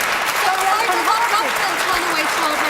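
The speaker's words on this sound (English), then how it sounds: "people are applauding her point" Studio audience at a televised debate applauding, a dense sustained clatter of many hands clapping, with a voice talking over it.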